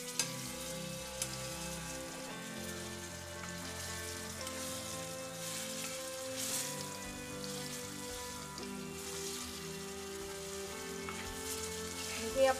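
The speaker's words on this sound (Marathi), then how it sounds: "हे आपण भगरीच्या पिठात पण घोळवून अशी फ्राय करू शकतो" Bananas coated in barnyard millet flour fry in a pan with a steady, moderate sizzle lasting throughout, set against sustained tonal background music.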